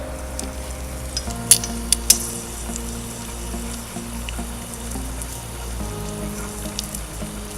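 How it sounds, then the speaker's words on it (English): Close, steady crackling sizzle of bacon frying under a halogen lamp, with a low hum underneath and a few sharp pops and ticks. "you can already hear this thing sizzling away"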